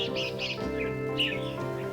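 A red-whiskered bulbul chirps while bathing in a cage: a few brief, bright chirps and calls over a steady, humming background, fairly faint.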